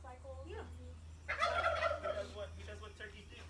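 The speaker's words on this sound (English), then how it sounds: "He does what turkeys do." A pet turkey in a Georgia barnyard gobbles once in a loud, rattling burst after some quieter calls, with steady low background hum.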